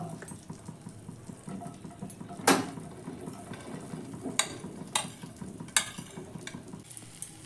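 Boiled sweet corn stirred in hot melted butter in a pan, a low sizzle and soft stirring rustle with a few sharp clicks of the spoon against the pan, quiet and close.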